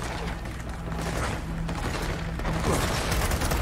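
Dense gunfire from the video game Gears of War 4, a sustained rattle of rapid shots and impacts with rumbling booms, loud and continuous.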